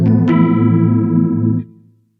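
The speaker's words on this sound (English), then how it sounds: "Let's have a quick listen to this chorus." A Behringer FX2000 Virtualizer multi-effect processor adds a shimmering chorus to a loud, sustained chord that rings for about a second and a half, then quickly fades out.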